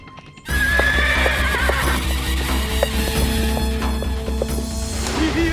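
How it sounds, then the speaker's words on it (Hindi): Horses whinny loudly in a busy movie scene, with galloping hooves clip-clopping steadily beneath dramatic music and crashes. The sounds start abruptly and stay loud and close throughout. "ये घोड़े कहाँ से आ रहे हैं?"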